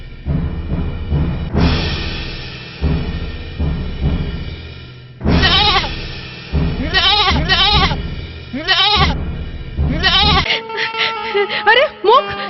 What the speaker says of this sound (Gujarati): હમણાં જ બકરો ઉપાડતો હોઉં.